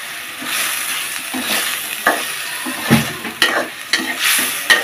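Shrimp with green chillies and tomatoes, cooking for a bottle gourd curry, sizzles in a pan as a spoon stirs and scrapes, giving several sharp knocks against the pan over a steady frying hiss; no speech.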